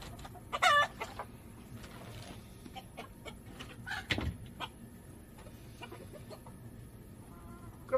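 Rooster crowing and hens clucking on a small Korean hen farm that raises breeding chickens, including a silkie; short calls come near and scattered over steady farmyard background noise, with a louder burst early and again midway.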